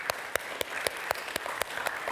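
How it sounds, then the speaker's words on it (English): Standing congregation at a church Vacation Bible School celebration worship service applauds, with distinct rhythmic claps over a soft background of scattered clapping. "let's give these folks a round of applause"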